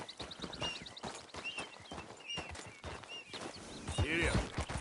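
A horse gallops in Red Dead Redemption 2 Online, with steady rhythmic hoofbeats on the ground, close and continuous, plus snorts and a faint whinny near the end, under a voice calling out.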